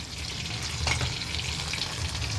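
Onion and minced garlic frying in a pan for shakshuka while being stirred together, a close, continuous sizzle with brief scraping strokes of the spoon, no voices.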